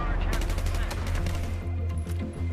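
M416 assault rifle firing in Battlefield 4, rapid bursts of loud automatic gunfire cracking in quick succession with dense echoing reports and brief gaps.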